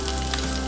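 Garlic sizzling in hot olive oil in a pan for seafood marinara, a steady close crackling fry that holds evenly from start to finish with no voices over it.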